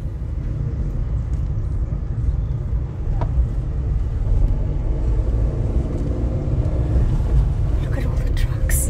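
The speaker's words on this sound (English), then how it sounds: "Look at all the trucks. It's like hectic." Busy road traffic with trucks near a river mouth at Colchester, a continuous heavy low rumble of passing vehicles close by, with people talking over it.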